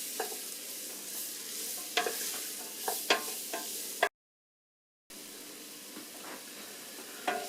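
Vegetables sizzle and cook down in a roux in a pot for chicken and dumplings, a steady frying hiss broken by scraping stirs, with a short silent gap midway.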